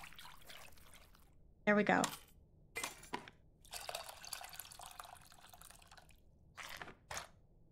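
Water is poured and dripped while cooking in the video game Venba, making a short splashy pour, trickles and scattered drips that come and go between quiet gaps, with someone talking briefly over it.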